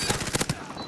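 An UZI submachine gun fires in a video game as a rapid burst of shots in the first half-second, fading into a brief tail.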